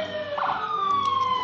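A wailing ambulance siren from a rescue squad at a St. Patrick's Day parade sounds loud and close, its pitch sweeping steadily, with a faint hum of road traffic beneath.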